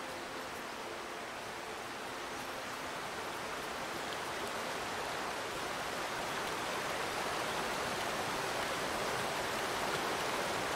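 A waterfall in the forest game Among Trees gives a steady, hissing rush of falling water that swells slightly over time, heard alone without talk.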